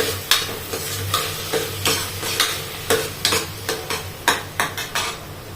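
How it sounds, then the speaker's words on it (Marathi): Lentils and vegetables sautéed and stirred in a pan for a Marathi onion- and garlic-free festive thali, with a steady sizzle under repeated scraping and clattering spoon strokes, close and alone. "परतवून चांगली एक अर्धा मिनटं फक्त छान परतवून घ्यायची"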